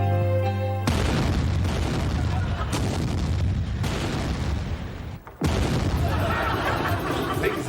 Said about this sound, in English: Things exploding too.